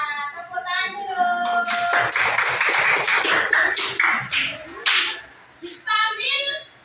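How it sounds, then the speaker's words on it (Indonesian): Classroom students burst into a round of hand clapping lasting several seconds, dense and fairly loud, between stretches of a teacher's voice before and after. "Tepuk tangan dulu."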